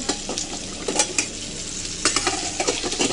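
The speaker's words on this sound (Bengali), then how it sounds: "এখানে মাছ ভাজছি" Fish fries in a pan in a home kitchen with a loud, hissing sizzle, broken by quick clatters of a utensil against the pan in short bursts.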